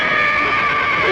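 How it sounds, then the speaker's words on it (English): A horse whinnies loudly and close by, a single drawn-out neigh. "I thought I heard a horse"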